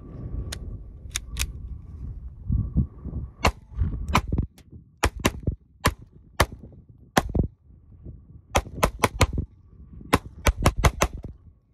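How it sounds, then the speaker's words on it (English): KelTec P-17 pistol firing Federal Champion bulk ammunition outdoors: roughly two dozen sharp, loud, close shots in irregular quick strings with brief pauses, no talking. "let's run a few rounds through it"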